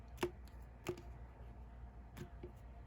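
A shuffled tarot card deck is cut by hand, giving three or four brief, crisp card taps spaced irregularly over a quiet room background.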